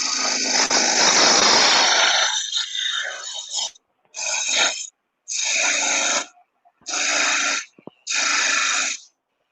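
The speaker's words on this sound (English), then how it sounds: "we can take this section out here with a skew chisel or a spindle gouge" A spindle roughing gouge cuts a table lamp blank spinning on a wood lathe: a long continuous rasping shave, then four separate loud cutting passes, each about a second long with short gaps between, close up and with no talk.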